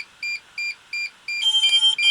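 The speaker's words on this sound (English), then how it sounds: "sorry about the beeping" A DJI Air 2S drone in pairing mode beeps in a steady rhythm of short electronic tones, then shifts into a faster, busier pattern of overlapping higher beeps.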